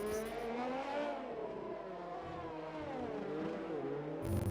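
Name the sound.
race car engine revving in racing video game RSF1 at Monaco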